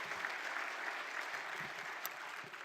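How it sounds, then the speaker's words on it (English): Faint, distant applause from an audience at a community empowerment award event honoring Dr. Larry Lee and the Greater Sacramento Urban League, a steady soft wash of clapping with no voices. "So please give him a round of applause."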